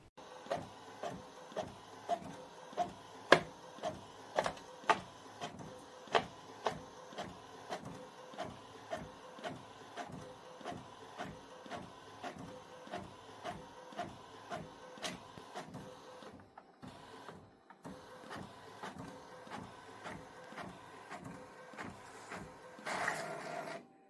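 An inkjet printer prints a photo on glossy photo paper at high quality, its print head clacking in a steady rhythm of sharp mechanical strokes for over twenty seconds, pausing briefly near the end before feeding resumes.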